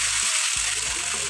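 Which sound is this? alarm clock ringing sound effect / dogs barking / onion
onion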